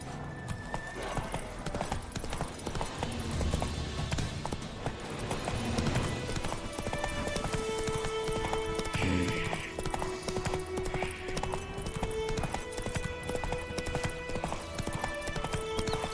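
Roach the horse gallops in The Witcher 3 with steady, rhythmic hoofbeats throughout, layered over game music and ambient effects, with an occasional snort.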